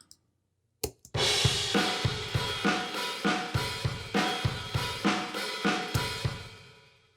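A drum kit plays a steady groove through fake room reverb, with punchy kick and snare hits in a regular rhythm, each followed by a short ambient tail. A few isolated hits come first, then the pattern.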